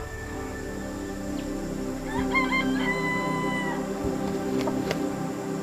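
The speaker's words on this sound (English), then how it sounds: "Those birds over there, they are the jungle fowl." A jungle fowl's crow rings out in the middle distance, rising and falling over a steady background hum, followed by a few sharp clicks.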